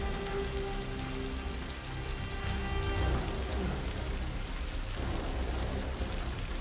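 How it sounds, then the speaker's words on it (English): Steady rain pours down in a TV drama scene, a dense, loud hiss of drops on surfaces that continues unbroken, with a faint musical tone beneath and no talk. "The rain's getting her all wet."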